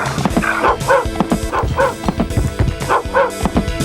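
A dog barks repeatedly in dog mode in the Rise of the Triad video game, loud sharp yips and woofs in a steady rhythm, close and dominant.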